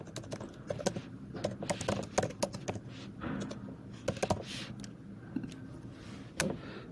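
Typing on a computer keyboard up close, a quiet irregular run of light key clicks in short bursts with brief pauses, heard alone with no talk over it.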